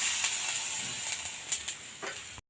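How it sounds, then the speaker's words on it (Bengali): Chillies and five-spice seeds are tempered in hot oil, giving a steady close hiss with a few brief crackling pops that fade out after a couple of seconds. "এরপর 5 ফোড়ন দিয়ে দিলাম"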